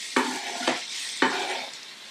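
Mushrooms sizzle in a hot pan, with three distinct stirring scrapes that each start a burst of frying noise and then settle into a softer, steady sizzle close by.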